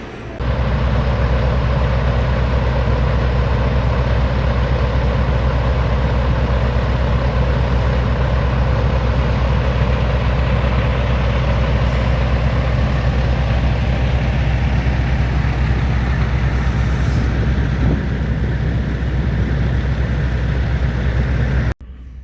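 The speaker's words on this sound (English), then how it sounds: "every single nook, every single cranny has a truck in it. It's piled, filled with trucks" Many trucks idle at a crowded truck stop, making a continuous, heavy low diesel rumble with a broad hum above it that stays steady and loud for over twenty seconds before stopping abruptly at the end.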